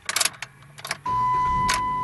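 A Jeep Compass with a flashing throttle light restarts: a few short cranking bursts give way to the engine catching and settling into a steady, close idle, with a brief chime or tone over the running engine.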